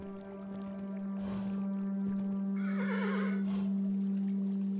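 A horse in Kingdom New Lands gives two short neighs, one quick and one longer and more wavering, over a steady low droning hum of game ambience.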